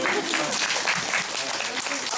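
Audience applause at a Korean musical talk event, a dense crowd clapping loudly and steadily for about two seconds with no break.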